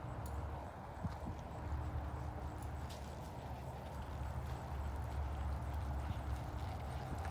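Steady, fairly faint clip-clop of horse hooves walking on the ground, an even rhythm over a constant low background noise.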